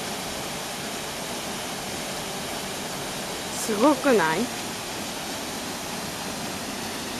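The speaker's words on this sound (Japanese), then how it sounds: "滝だよ、ほら" A waterfall roars steadily in the background, a constant rushing wash of water, while a person speaks briefly over it.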